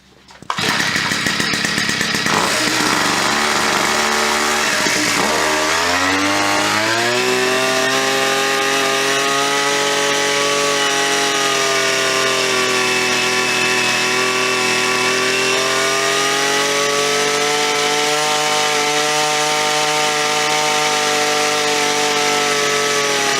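UberScoot 2x two-speed gas scooter engine, freshly assembled and still breaking in, starts with a sputter then settles into a loud, steady buzzing run with rising and falling revs, close up and alone.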